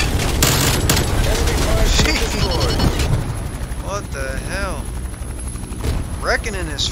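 A helicopter in the video game Call of Duty: Black Ops Cold War chops loudly amid bursts of rapid gunfire and game voices, with the rotor noise persisting under the busy battle sounds.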